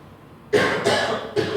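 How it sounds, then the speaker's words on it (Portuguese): Three harsh coughs in quick succession, close and loud, after a moment of near quiet. "Estou com uma tosse, mas não é corona, não."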